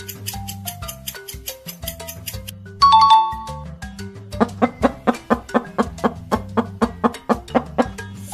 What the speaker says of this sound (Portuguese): Se você respondeu que esse é o som da galinha